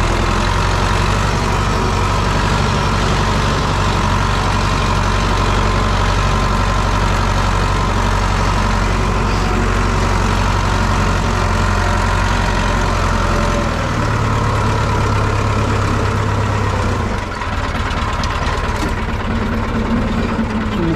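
A UTB diesel tractor engine idles loudly and steadily at close range, a deep continuous rumble with a slight change in pitch partway through.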